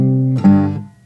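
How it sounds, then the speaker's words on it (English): A single power chord struck on guitar in a hill country blues style, ringing out with strong harmonics and fading over about a second, preceded by a held note. "sometimes he'll just hit kind of like a power chord and it'll sound like this."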